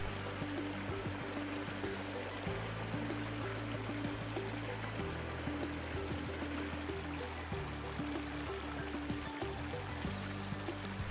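Runoff stream from Imperial Geyser in Yellowstone flows in a steady, broadband rush and gurgle of water, continuous and fairly close, with no voices.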